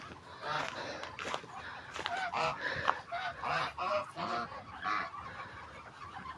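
Loud, repeated quacking of several ducks close by, in irregular bursts with a faint voice in the background.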